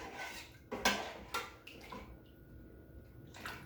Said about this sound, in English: Stir it again some more.